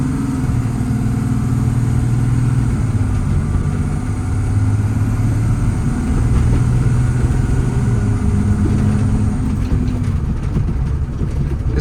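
A 2021 Kenworth T270 truck with a 300 hp PX7 diesel and Allison automatic idles steadily up close, a continuous low rumble with no voices over it.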